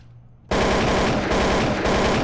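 Sustained automatic rifle fire in the Counter-Strike: Source video game, a loud, dense rapid burst starting abruptly after a half-second of near silence and continuing without pause to the end.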